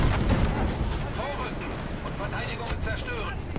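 Tank cannon fire in Battlefield 5 during the Last Tiger campaign: dense, loud booming battle noise with rumbling low end fills the whole stretch, under a game voice speaking throughout.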